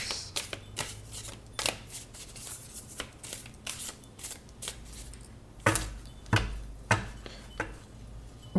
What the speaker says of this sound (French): On va faire la coupe.